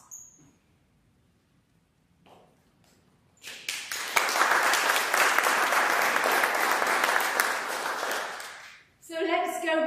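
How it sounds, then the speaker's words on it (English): A church congregation breaks into sustained applause, loud and dense for several seconds before fading, after a quiet stretch with faint talk. "perhaps another round of applause is needed here for Jesus"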